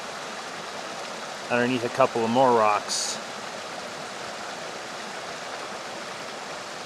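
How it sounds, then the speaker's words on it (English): A running mountain stream along a trail near Symmes Creek in the Williamson Bowl area, a steady broadband rush of flowing water heard throughout, with a person speaking briefly in the middle. "this is the first running stream I've come to since crossing Symmes Creek the 4th time"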